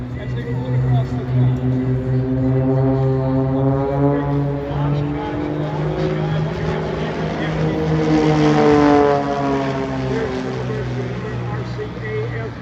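A formation of aircraft passes at the Oshkosh AirVenture airshow, a loud droning propeller roar whose pitch sweeps as it swells and fades while a voice talks over it.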